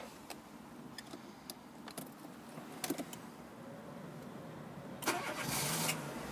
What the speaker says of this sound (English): And if we just get the car started up